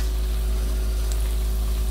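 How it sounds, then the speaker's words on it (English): Steady, dense sizzling of crescent dough donut holes frying in hot oil, constant and close, with no voices. "That's it frying"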